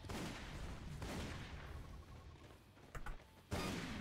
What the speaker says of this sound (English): the right click on the shotgun does two shots